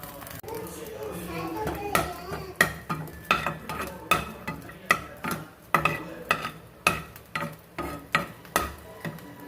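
Small unripe mangoes are stirred as they fry golden in ghee with cashews and cardamom for mango pachadi. A rhythmic run of loud, close spatula scrapes over a light sizzle plays beneath someone talking.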